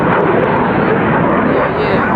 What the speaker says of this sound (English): just 4 jets just flew through here